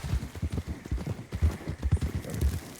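Hooves clip-clop in a steady walking rhythm, close and even, with no voices over them.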